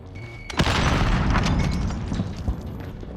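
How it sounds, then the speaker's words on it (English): A frag grenade explodes in Call of Duty: Warzone, a loud close boom with a sharp initial crack that rolls into a rumbling blast lasting over a second, followed by a smaller pop as it fades. "Throwing frag."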